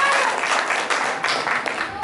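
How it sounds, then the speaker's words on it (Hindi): Loud, sustained audience applause at a Hindi poetry recitation honoring Aryabhata, a dense wash of clapping filling about two seconds without pause. "एक बार जोरदार तालियां"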